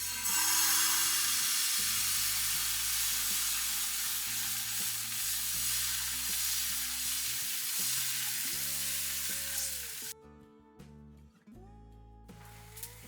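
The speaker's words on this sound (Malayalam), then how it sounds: "ചൂടായി വരുമ്പോൾ നമുക്ക് ബാറ്റർ ഒഴിച്ചിട്ട് ദോശ പോലെ ഒന്ന് പരത്തി കൊടുക്കാം." Batter for lakkottappam hits a hot pan and is spread out, a loud continuous sizzle that fades after about ten seconds, with a melodic tune playing underneath throughout.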